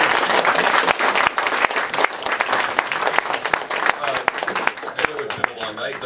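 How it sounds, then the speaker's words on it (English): An audience at a lecture on secularism gives a speaker a final round of applause: dense, loud, steady clapping from a full room that continues throughout. "Can we get one last round of applause for our speaker"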